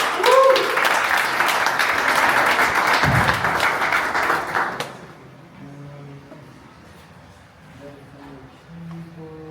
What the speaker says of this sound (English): let's give applause for Ruslan, who's pitching us qualitymax.io.